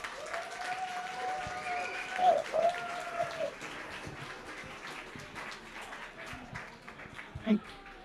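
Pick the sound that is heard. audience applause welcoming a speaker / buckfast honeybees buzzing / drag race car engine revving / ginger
audience applause welcoming a speaker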